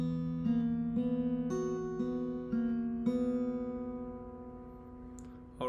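Slow fingerpicked acoustic guitar in standard tuning plays the opening of a song, single clear notes plucked one after another at an unhurried pace, each ringing into the next.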